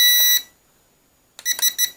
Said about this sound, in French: voilà, vous avez 3 bips